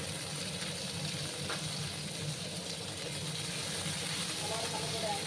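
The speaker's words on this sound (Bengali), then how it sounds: "একটু লাল করে আমি পেঁয়াজগুলোকে ভেজে নিচ্ছি।" Chopped onions frying in a pan for a spicy chapila fish curry, a steady close sizzle running evenly throughout with no talking over it.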